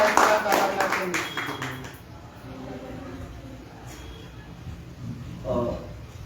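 Applause bursts out at a Hindi poetry gathering held by a national poets' forum in Pilibhit, a dense patter of clapping hands that is loud at first and then fades out under a speaking voice.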